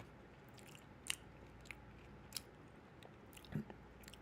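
A Wendy's spicy chicken nugget is bitten and chewed up close, with a few faint crisp crunches and soft chewing sounds spaced over a few quiet seconds.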